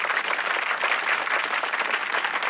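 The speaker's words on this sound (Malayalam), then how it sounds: "ഒരു വലിയ കയ്യടി രണ്ടുപേർക്കും" Studio audience on a comedy show breaking into loud, sustained applause for two performers after a song, dense clapping filling the room without a break.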